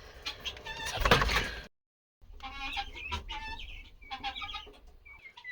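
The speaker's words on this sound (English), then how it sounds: "let's check on the baby guineas" Baby guinea fowl keets chirping in a pen, a busy cluster of high peeping calls close by, broken by a brief silent gap before the chirps resume and continue steadily.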